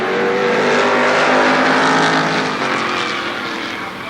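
Race cars roar past at Shadybowl Speedway during a close side-by-side battle for position, their engines loud and sustained. The engine pitch shifts as the cars pass, and the roar slowly fades toward the end.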